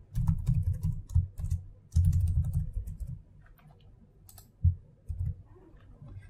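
Keys clatter on a computer keyboard during an API management screencast as a tier name and description are entered, with bursts of close, fairly loud taps separated by short pauses and no talking.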